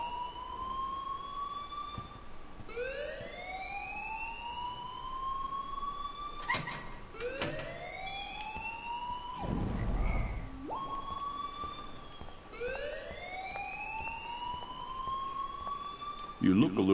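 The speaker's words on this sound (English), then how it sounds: "please turn off that alarm since that's your job." An alarm in Life is Strange wails in repeated rising siren sweeps throughout, with people talking under it.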